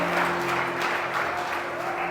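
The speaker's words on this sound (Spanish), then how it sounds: "Denle un aplauso al Señor." A church congregation applauds during a sermon, giving broad continuous clapping at a steady level with a low sustained hum underneath throughout.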